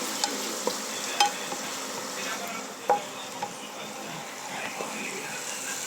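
Vegetables for ginisang sayote sautéing in olive oil in a pan give a steady low sizzle with stirring scrapes and a few sharp clinks, close and fairly quiet, with no talking.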